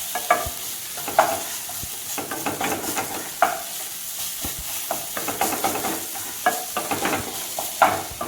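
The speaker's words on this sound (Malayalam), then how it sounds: "നമ്മളിത് വെച്ച് ഇങ്ങനെ ചെറുതായിട്ടൊന്ന് ഉടച്ചു കൊടുക്കുക" Onion and tomato masala for soya roast being mashed and stirred in a hot pan, with steady sizzling frying under repeated scraping and tapping of the spoon, close by.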